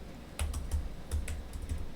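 A computer keyboard is typed on at close range as a command goes in on an Ubuntu machine: a quick, uneven run of crisp key clicks with short pauses between them and no talking.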